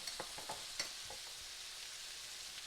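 Ground spices, coriander powder and black pepper, fry in oil for a sandwich, giving a steady soft sizzle with a few scraping stirs and small clicks at the start, quiet and close with no talk.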